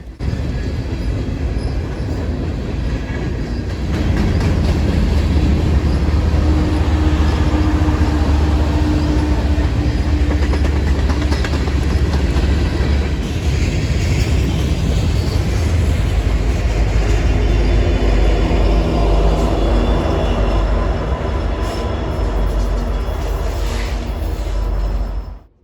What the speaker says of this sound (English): This train also had a mid-DPU, NS ES40 DC